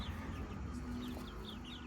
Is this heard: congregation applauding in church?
no